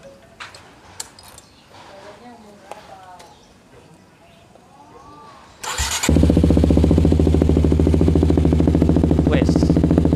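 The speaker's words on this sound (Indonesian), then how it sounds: "kita coba dengerin nih suara motornya gimana sih kalau misalkan dinyalain idle knalpotnya atau langsamnya" A modified Kawasaki Ninja 250 SL fires up after some quiet background chatter and settles into a loud, steady idle, its exhaust pulsing rapidly and evenly up close.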